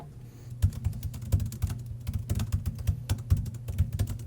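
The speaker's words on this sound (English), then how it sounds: "I felt like my typing was so loud" Fast, steady clicking of keys on a computer keyboard in a library, typed close by with a dull thud under each keystroke.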